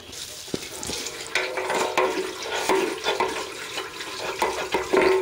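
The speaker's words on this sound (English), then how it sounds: "Now I've drained the tank and I'm gonna put some water in it and I'm gonna flush it out." Water sloshing and swirling inside a 1981 Honda CB650 motorcycle gas tank as it is flushed out, a steady watery churning with irregular splashes and gurgles, close and fairly loud, no talking.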